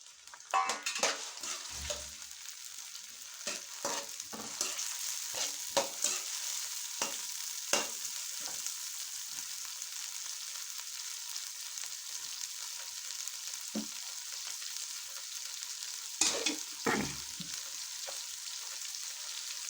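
Onions and tomatoes fry in a pan with a continuous sizzle, broken by repeated sharp clicks and scrapes as a spatula stirs them, some strokes louder than others.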